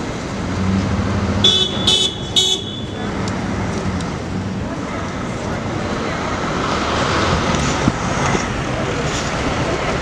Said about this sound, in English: I'll just wait until these cars are through.